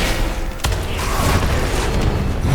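Fire breath attack from an enemy in a World of Warcraft Tier 11 delve: a sharp boom followed by a continuous loud roaring, rumbling whoosh that sustains for a couple of seconds amid game mechanics noise.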